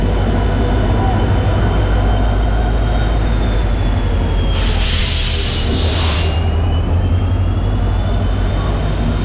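The Tamralipta Express (12857) rumbles loudly and steadily close by as it arrives at a platform, with a long whistling tone and two bursts of hissing brakes midway.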